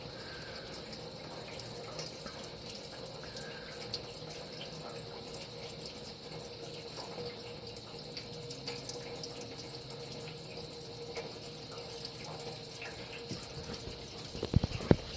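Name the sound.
gasoline pouring out of golf cart engine oil plug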